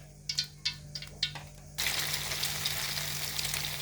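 Potato and egg mixture poured into hot oil in a wok, starting with a few light clinks and taps, then breaking into a steady, close, loud sizzle of frying that holds to the end.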